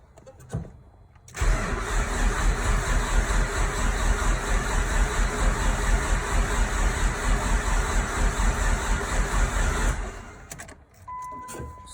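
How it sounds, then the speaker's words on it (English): A Nissan Sentra Spec V with a turbo build cranks over steadily on the starter for about nine seconds, coils and injectors disconnected to prime the oil, loud and close, with brief quiet moments before and after. "So I have coils and injectors disconnected so I can prime oil in the engine."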